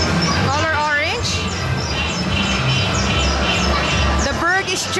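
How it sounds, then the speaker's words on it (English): Birds chirp and tweet in short rising calls over a loud, busy background of people talking and general noise at an amusement center. "The bird is chirping, Garrett."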